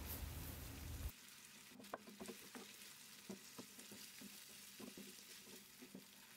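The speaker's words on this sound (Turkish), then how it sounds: "Ekliyorum ve karıştırarak kavurma işlemine devam ediyorum." A pan of sautéing potato dish with cubed meat and added tomato juice opens with a loud sizzling hiss that quickly settles into soft frying under intermittent spoon scrapes and light taps of stirring.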